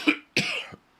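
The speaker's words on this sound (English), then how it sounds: "I do apologize for the coughing in the mic." Two harsh coughs right into a microphone during a live tech news show, the first short and the second longer and rougher, loud and close, with a brief silence between and after.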